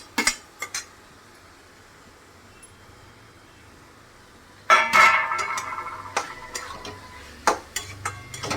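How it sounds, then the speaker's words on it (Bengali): Chickpeas and potatoes are sautéed and stirred in a pan, with a few sharp utensil clinks at first, then a sudden sizzle and scraping with repeated metallic taps, close by over a low hum. "এই দেখুন কষা হচ্ছে"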